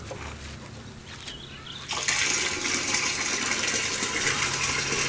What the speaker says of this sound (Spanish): Vertimos más agua en el barro y volvemos a hacer lo mismo.